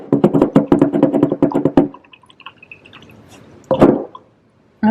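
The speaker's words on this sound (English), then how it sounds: "I'm going to wash my sponge." Rapid wet squishing and splashing as a sponge is rinsed under running water, a loud rhythmic burst for two seconds, then quiet drips and one more squeeze, up close.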